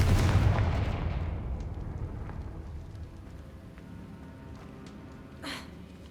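The Confringo blasting spell from Hogwarts Legacy goes off as a loud booming explosion that rolls into a long fading rumble, followed by a brief hiss near the end.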